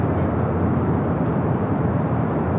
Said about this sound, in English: So we have a Delta A350 heading over to 24 left.